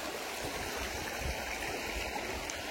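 Creek water flows steadily beside a campsite lined with trees, a continuous soft rushing burble, moderately distant and alone.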